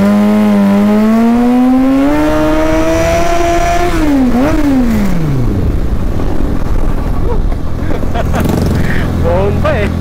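A motorcycle engine being rev-bombed on a New Year outing, loud revs rising and swooping in pitch then dropping back, close up, with a roaring exhaust and a voice heard over it.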